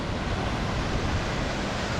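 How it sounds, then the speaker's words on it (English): Waterfall in Morocco heard along a mountain bike-packing route, a steady loud broadband rush of falling water holding even throughout, with no talk. "Beautiful waterfall."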